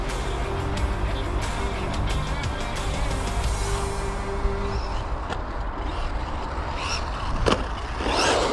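A brushless Vorteks RC truggy whines and revs hard while spinning donuts off-road, a loud, continuous motor drone with tire scrub, changing in pitch and ending in a few sharp knocks and rattles.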